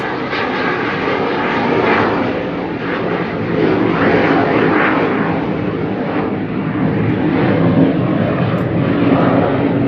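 A loud, steady military jet engine roar rolls on continuously near the Oak Harbor naval base, swelling slightly as the aircraft passes close overhead, with no other sounds.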